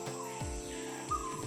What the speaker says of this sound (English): this sounds belong to a bird of some kind, and that bird is in fact the screaming peahen